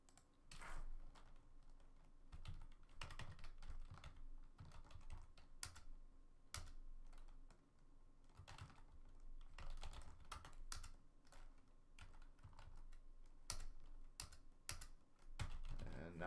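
Steady typing on a computer keyboard during text editing, with irregular bursts of close key clicks and brief pauses, running continuously at a moderate level with no talking.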